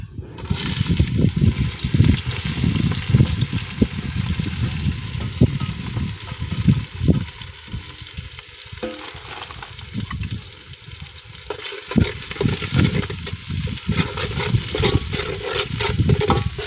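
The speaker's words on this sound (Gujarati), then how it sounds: "લીલી ડુંગળી આવી રીતે હલાવવાની છે" Green onions fry in hot oil while being stirred, giving a steady, close sizzle with irregular scraping and stirring bursts that dip briefly midway and then resume.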